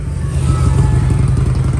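A motorcycle with an aftermarket exhaust rumbles loudly nearby, a short burst of throaty, pulsing engine note as it revs past on a street.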